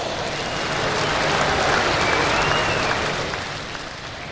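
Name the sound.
audience applause for the Pro Stock tractor pullers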